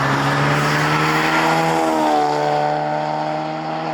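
A 2016 Ford Mustang EcoBoost fitted with an MBRP race exhaust accelerates with a loud, droning, rising engine tone that climbs steadily, then eases slightly near the end.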